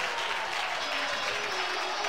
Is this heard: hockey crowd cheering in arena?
yes